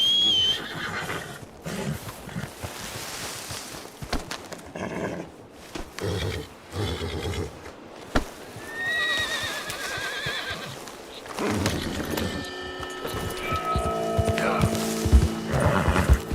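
An Arabian horse in Red Dead Redemption 2 gives loud, drawn-out whinnies and neighs with snorts and hoof clops in between. Game sounds and music run throughout, and someone talks over parts of it.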